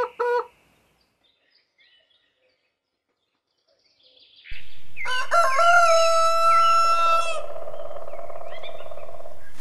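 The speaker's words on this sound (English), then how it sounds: "Cock." A rooster on a farm lets out a loud, close cock-a-doodle-doo crow after a short opening squawk and a few seconds of near silence, the call held long and trailing off at the end.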